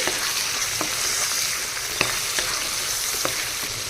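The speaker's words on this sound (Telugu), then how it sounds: "అన్ని వేసిన తర్వాత బాగా కలుపుకోవాలి." Boiled potatoes, turmeric, tomato purée and yogurt are stirred together in a hot frying pan for a spicy aloo egg masala. A steady close sizzle runs beneath sharp scrapes and clicks of the spoon against the pan.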